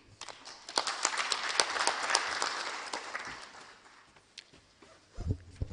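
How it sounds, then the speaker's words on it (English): A crowd claps at a telecommunication conference in Zimbabwe, the applause swelling quickly, holding for a few seconds and then fading to scattered claps before a voice cuts in at the close. "another round of applause for the Permanent Secretary in the Ministry of ICT, Postal and Courier Services"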